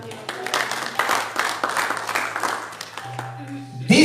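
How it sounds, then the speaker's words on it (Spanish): A church congregation applauds in a steady, moderately loud patter under a low hum, with a voice sounding faintly over it and a brief tone near the end. "Denle un aplauso al Señor."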